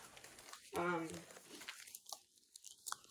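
Excess deer hide trimmed off a stretched hide with a blade, giving scattered crunchy tearing and scraping cuts up close, with a person talking briefly near the start.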